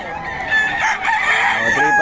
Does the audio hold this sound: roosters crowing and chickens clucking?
yes